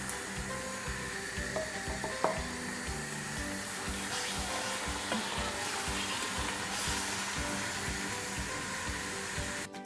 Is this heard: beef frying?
yes